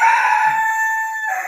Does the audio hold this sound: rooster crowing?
yes